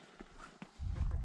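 Horses move close by, a couple of faint hoof taps followed by a dull low rumble of movement, all brief and quiet.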